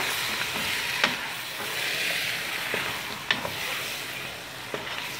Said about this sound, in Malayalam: നല്ലപോലെ മസാല ആയിട്ട് ഒന്ന് മിക്സ് ചെയ്ത് കൊടുക്കുക